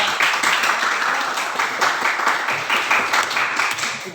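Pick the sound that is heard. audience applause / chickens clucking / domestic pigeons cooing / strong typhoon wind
audience applause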